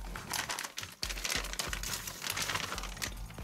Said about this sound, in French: Donc nous allons ouvrir notre sachet.